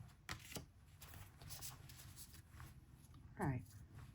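A tarot card deck is shuffled by hand, giving soft riffling and sliding card sounds in scattered bursts, quiet and close, with a brief voice-like sound near the end.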